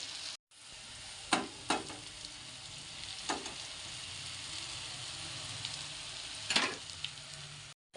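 Poha stir-fried in a pan with turmeric, coriander and a little sugar gives a steady close sizzle, with a few sharp stirring scrapes and clatters breaking through; no one speaks.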